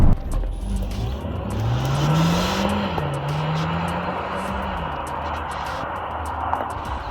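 A Peugeot 508 PSE drives with its speaker-enhanced engine sound: a steady engine drone whose pitch climbs, then wavers up and down as the car pulls, under a constant road and wind hiss.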